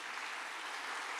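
Church congregation applauding, a dense, even roar of clapping that holds steady without pause, fairly quiet overall.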